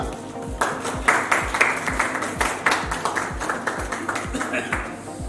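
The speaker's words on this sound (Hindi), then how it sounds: "तालियां।" At an award show for an NGO, a crowd applauds a guest's honouring with scattered claps over a steady rhythmic beat of music, with voices talking throughout.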